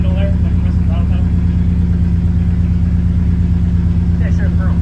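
A steady, low engine idle rumbles close up and continuous throughout, an even mechanical hum with faint higher clinks and noises over it, on an engine that has just started running and settled into a smooth idle.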